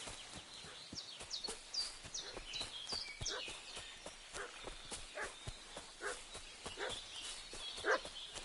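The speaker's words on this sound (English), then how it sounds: "What's that dog making such a fuss about?" A dog barks repeatedly at a medieval village in the video game Kingdom Come: Deliverance 2, with short sharp yaps in an uneven series, alongside hoof clip-clops and birdsong in a quiet outdoor ambience.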